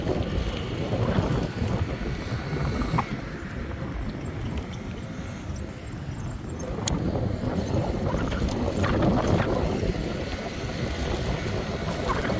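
Steady wind out of the west buffets the microphone on an outdoor bike ride in Plainfield, a continuous rushing roar with no talk.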